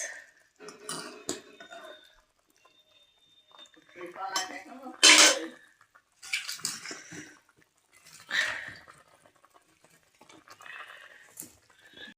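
Cooking pangas fish with new potatoes and tomatoes in a pot at home: intermittent clanks and scrapes of a utensil against the metal pot, close and sporadic, with someone talking in between.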